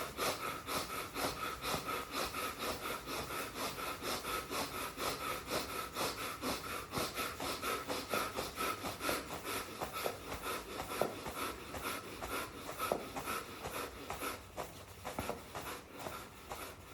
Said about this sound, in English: Rub sides of your arm as you breathe in and out.